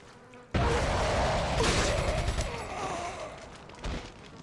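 Rapid gunfire from the Resident Evil 4 video game crackles in a dense, sustained burst after a sudden onset, fading toward the end with a final short flare.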